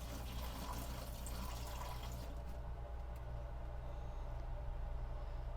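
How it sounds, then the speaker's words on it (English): Water is poured into a portable van toilet, a low steady liquid rush with trickling that runs evenly throughout, set against a faint air-conditioner hum. "let's pour some water in here"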